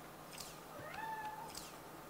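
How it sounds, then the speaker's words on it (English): A house cat meows twice in the background, a soft drawn-out rising cry followed by a shorter one, faint and distant in a quiet room. "That's my cat in the background"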